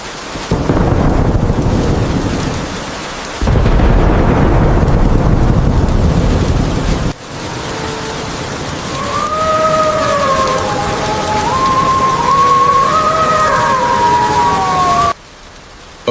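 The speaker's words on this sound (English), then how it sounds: "It is raining. It is really raining." Heavy rain pours down with rumbling thunder, loud and close, the downpour cutting out and returning in bursts, followed by a quieter stretch with light music over the rain.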